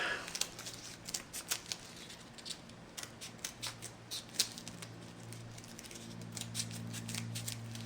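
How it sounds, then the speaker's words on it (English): Scissors snip repeatedly through a thick wad of waxy, glue-gummed plastic during a Prusa i3 Tronxy 3D printer build, sharp irregular cuts close up over a low steady hum. "the scissors are getting gummed up with the glue, the wax, so they'll require sharpening at the end of this"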